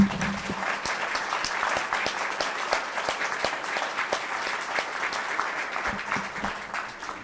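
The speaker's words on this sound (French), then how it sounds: "je vous propose d'applaudir toutes les personnes qui se sont données sans compter pour que cette manifestation soit réussie" An audience at an arthritis fair in France applauds, steady dense clapping from a sizeable crowd that holds for several seconds at an even level.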